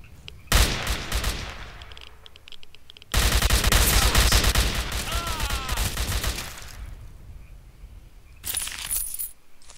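Bursts of automatic gunfire come from the video game S.T.A.L.K.E.R. Call of Pripyat, with two long, loud, dense volleys separated by a short pause and a brief final burst.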